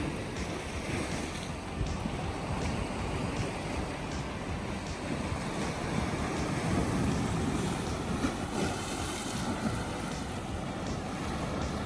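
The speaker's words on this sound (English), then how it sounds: "Morning run, and I found this gem of a little beach." Surf washes onto a small, remote island beach, a steady broad roar of waves mixed with gusty wind buffeting the microphone, with no voices.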